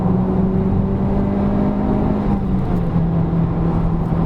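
A Honda Civic Type R accelerates through the gears, its engine giving a steady, loud drone with sustained harmonic tones. The pitch holds fairly level and steps down slightly partway through, as at a gear change.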